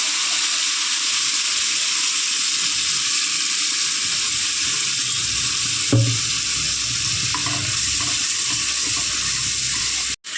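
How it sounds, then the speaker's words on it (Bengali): A blended spice paste with two dried red chillies fries in a pan, giving a steady close sizzle, with a stirring scrape around the middle and a brief clatter at the very end. "মশলাটা ভাজা হয়ে গেছে"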